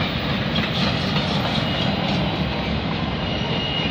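A CN freight train carrying auto frames rolls past at close range, a loud, continuous broadband rumble and rattle of railcars that holds steady throughout, with no voices.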